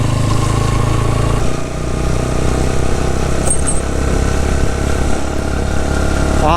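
Motorcycle riding through snowy winter mountains in Upper Neelum, Keran Sector toward Kel in Azad Kashmir, engine droning loud and steady close up with constant wind rush, no talk.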